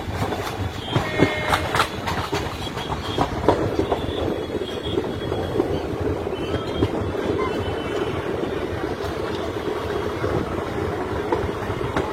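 Teesta Torsa Express train running on broad-gauge rails near Salar, Murshidabad, a steady loud rumble with rhythmic wheel clatter and occasional squeal throughout, no voices.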